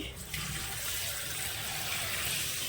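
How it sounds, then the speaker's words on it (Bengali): Water poured from a tap onto fish sitting in a bowl, a steady close rushing splash that holds unbroken for a few seconds, loud and alone. "এবারে মাছটাই জল দিই জল দিয়ে রাখি"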